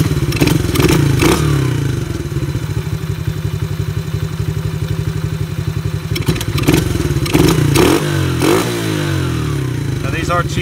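A cheap Chinese four-wheeler ATV engine idles and revs steadily close by while its carburetor is being tuned, with a few clattering thumps and people talking over it.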